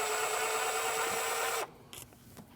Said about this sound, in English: Use a Phillips screwdriver to remove these.